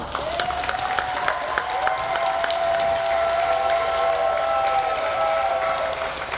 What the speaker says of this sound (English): you may give them one final round of applause